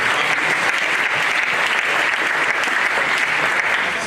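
A large audience gives a sustained, dense round of applause for a vice chancellor, an even wash of clapping throughout with no talk over it.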